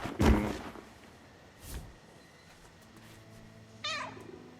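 A cat in the video game No Rest for the Wicked lets out a few distinct meows spread across a few seconds. A soft thump comes between them, and the background is otherwise quiet.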